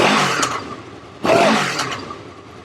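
A 2020 Honda VFR800X Crossrunner motorcycle revs past nearby in loud engine-and-exhaust bursts, a short surge followed by a stronger swell that fades away, with no talking.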